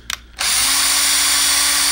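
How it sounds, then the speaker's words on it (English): Power drill boring a hole in a solar racer kit with a plastic body: a couple of brief ticks, then the motor spins up into a loud, steady high whine held to the end. "So I'm going to take and just drill another hole on this other side."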